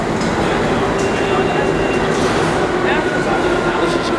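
A New York City subway train rumbles steadily and loudly through a station, with a dense continuous roar and faint squeals, while people talk nearby.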